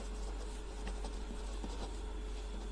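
A pen scratches out a math formula on paper in short, faint strokes and taps against a low steady hum, without talk.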